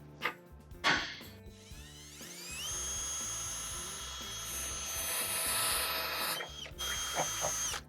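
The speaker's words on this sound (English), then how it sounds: "Now gradually enlarge the hole by increasing the size of your drill bit." A power drill with a step bit whines at high pitch as it enlarges a hole in the steel frame of a 2020 Ford Escape. It spins up after two short bursts, holds a sustained grinding whine, then winds down and restarts.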